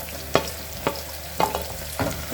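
Green chillies and onion frying in a pan for peas pulao, a soft steady sizzle broken by four distinct scraping stirs at roughly even intervals, close and clear with no talk.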